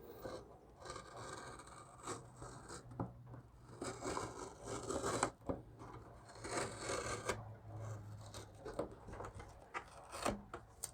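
Protective film being peeled from a freshly painted RC car body, a series of soft rasping, tearing rubs that rise and fall in bursts over low steady hum, close and fairly quiet, with no talking.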